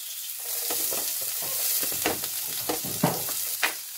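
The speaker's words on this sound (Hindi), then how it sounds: "प्याज डालेंगे प्याज" Onions fry in a pan with a soft continuous sizzle, punctuated by several sharper clanks and scrapes as they are stirred, close up and without speech.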